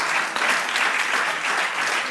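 Audience applause in a hall welcoming a renowned professional football player who has played for Real Madrid, a dense steady clapping that fills the whole stretch at close range with no voices over it.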